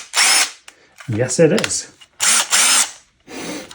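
A new Ryobi 18V ONE+ cordless combi drill whirs up in three short bursts with no load, and a person speaks briefly between the runs.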